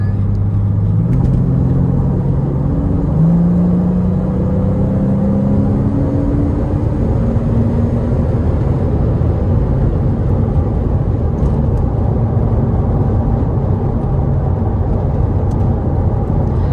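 A 2009 Porsche Boxster S accelerating, its engine heard loud and close as a continuous drone with rising tones as it pulls through the gears, with steady road and wind roar underneath.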